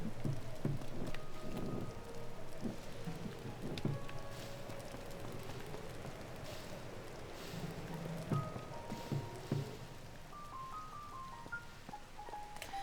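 Rain falling in the video game The Legend of Zelda: Tears of the Kingdom, a steady soft patter under game music and occasional effects, faint and continuous.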